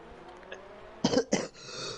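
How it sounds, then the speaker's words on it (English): Two harsh, close coughs in quick succession, rough and throaty, heard over a quiet background during a sim racing broadcast at Abu Dhabi. "And more coughs."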